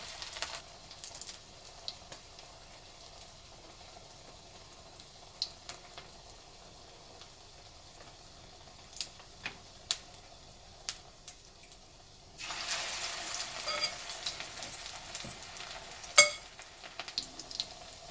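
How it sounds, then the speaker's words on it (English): A meatless chick-n-less sandwich patty fries in hot oil, a faint, steady crackle and hiss that swells into a louder, denser sizzle partway through, with occasional sharp pops. "I'm going to pop that in my oil and let that sit."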